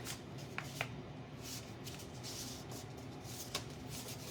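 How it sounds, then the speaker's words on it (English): Sheet of paper being folded along a mark and pressed down, giving a few soft crinkles and sharp creasing snaps against a quiet background. "I'm going to fold this up right at that mark."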